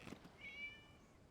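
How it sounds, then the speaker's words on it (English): A cat in a video game lets out one short, faint meow after a soft thump, heard on its own against quiet background. "It was just a cat."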